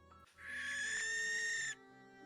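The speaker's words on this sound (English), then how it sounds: "It is probably like a distant barn owl screech." Distant barn owl screech, a single drawn-out harsh cry with a strong tonal band lasting over a second, rising in quickly and cutting off abruptly, alone over faint background tones.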